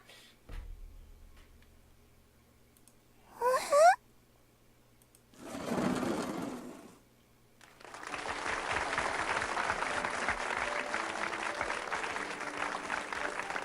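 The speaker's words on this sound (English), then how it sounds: "we were greeted by a wave of cheers and applause" A crowd of cheers and clapping in a classroom scene from the Chrono Clock video game swells into a sustained wave of applause, preceded by a short chime flourish and a rustling whoosh.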